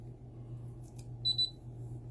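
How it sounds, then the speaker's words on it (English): Two short, high electronic beeps in quick succession sound over a quiet background hum. "Ooh, it beeped, you guys,"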